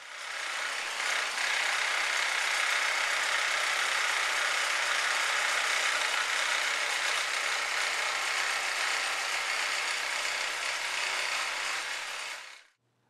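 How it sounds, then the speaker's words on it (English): A buffing machine polishes guitar frets, giving a loud, steady, rough whirring grind that holds evenly for about twelve seconds before spinning down abruptly. "To polish my frets, I use a buffing machine"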